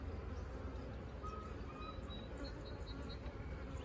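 Agitated honey bees buzzing in a hive, a faint steady drone of many bees with no talk over it.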